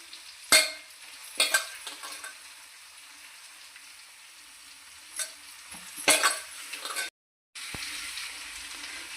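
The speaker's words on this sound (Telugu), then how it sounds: "ఇలా వేగిన దాకా చక్కగా మగ్గేదాకా వేయించుకుందాం" Bitter gourd pieces fry in a pan with a low continuous sizzle, broken by several sharp spatula scrapes and stirring bursts, one short silent gap near the end.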